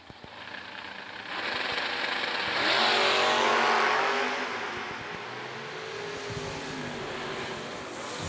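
Drag racing cars, including a Camaro, launch at a strip, a loud engine roar swelling and peaking mid-clip before easing off, heard from a distance with a broad rushing quality.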